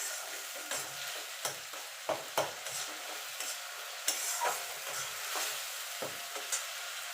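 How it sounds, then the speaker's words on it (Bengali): Onions frying in a pan for a Bengali rohu fish kalia, stirred with irregular scrapes and clinks over a faint continuous sizzle, fairly quiet and close, with no voices. "এবার পেঁয়াজটাকে একটুখানি মিনিট খানিক নাড়াচাড়া করে নেব।"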